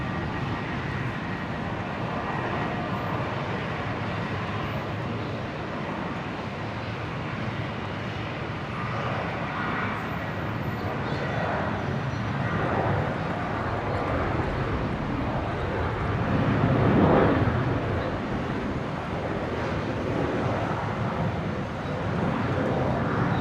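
A Qantas airliner takes off from Brisbane airport, bound for Norfolk Island, its engine roar building gradually from a distance and swelling louder toward the end before easing slightly.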